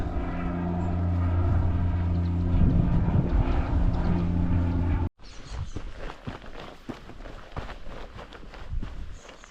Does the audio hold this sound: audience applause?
no